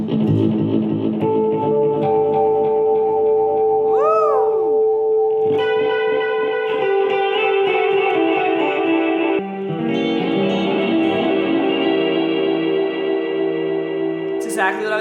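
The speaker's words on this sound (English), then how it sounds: "A clean tone with chorus and a rich hall reverb." Clean electric guitar through a Positive Grid Spark 2 amp with chorus and a rich hall reverb, playing sustained chords and notes with shimmering, swirling tails; a brief pitch-sliding bend appears early on, with no talking.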